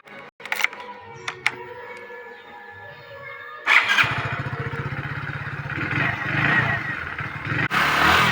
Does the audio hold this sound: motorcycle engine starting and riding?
yes